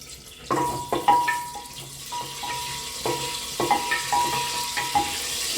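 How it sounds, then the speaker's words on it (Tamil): Spices sautéing in hot oil for vegetable biryani, a steady sizzle broken by repeated clinks and scrapes of a spoon stirring the pan, close and moderately loud with no talking. "நல்லா ஃப்ரை ஆகிற வரைக்கும் கொஞ்சம் நேரம் வதக்கிங்க"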